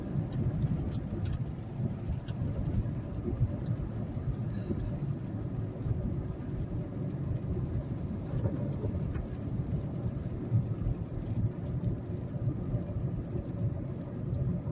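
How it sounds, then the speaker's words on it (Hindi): Steady, dense monsoon rainfall pours down without a break, a constant heavy wash of water on a road with faint low rumbling underneath. "बारिश तेज होती जा रही है"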